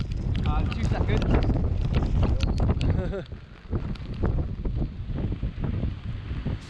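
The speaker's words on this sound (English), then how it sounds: "We got south winds gusting up to 47 miles an hour." Strong south wind gusting hard on a UK coast on a February sea-fishing outing, roaring and buffeting the microphone continuously, with a voice talking over it.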